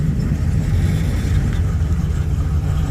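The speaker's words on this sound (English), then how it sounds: "The old Chevy Nova." Old Chevy Nova at a car meet, a loud continuous low engine rumble, close by and steady throughout.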